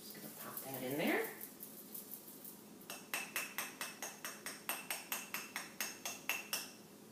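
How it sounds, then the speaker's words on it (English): Chili ingredients in a crock pot stirred with a utensil, a rapid series of rhythmic clinks and scrapes against the pot that follows a brief spoken voice. "And we're going to stir it all up."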